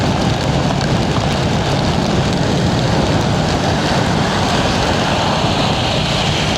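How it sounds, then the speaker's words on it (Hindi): Strong wind buffets a Royal Enfield Hunter motorcycle riding in cyclone rain near 44 km/h, a loud, steady broadband roar with continuous rushing wind noise on the microphone and no pauses. "देख रहा हो कितनी तेज हवा"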